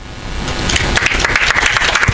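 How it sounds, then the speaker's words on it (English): Applause from an audience at a youth digital development event builds from a light patter into fuller, nearby clapping, with individual sharp claps standing out. "let's give a warm round of applause for Civic Voices"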